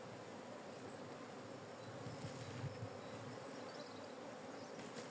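Honey bees buzz continuously around mini hive frames, a dense, steady drone of many insects at low volume with no voices.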